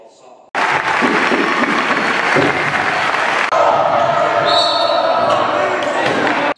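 A loud, enthusiastic crowd at a high school basketball game roars and claps continuously, with sneaker and ball sounds in the mix and a whistle-like tone cutting through partway.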